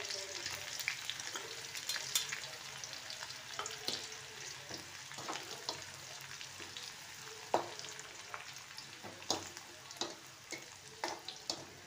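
Raw onion with ginger-garlic paste fries in a pan, giving a steady close sizzle broken by scraping stirs and small pops.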